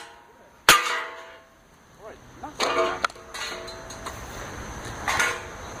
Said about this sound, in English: Had enough with toaster smashing sounds.